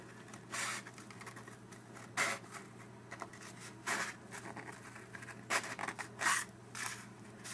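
Quiet scissor snips and paper rustles come in irregular bursts, a few sharp cuts spaced apart over a low steady hum.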